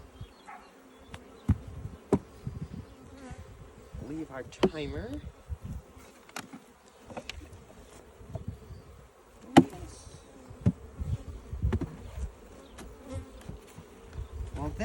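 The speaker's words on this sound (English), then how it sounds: "The bees will still be alive, just rather annoyed." Honeybees shut in a container during a hive mite check buzz loudly and angrily, a dense agitated drone with sharp knocks and clatter, while a person talks nearby.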